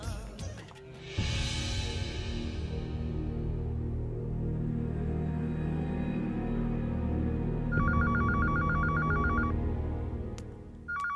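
A landline telephone rings at night with a bright repeating electronic trill, pulsing in a steady burst late in the scene over a sustained background music bed.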